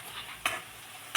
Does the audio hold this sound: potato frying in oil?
yes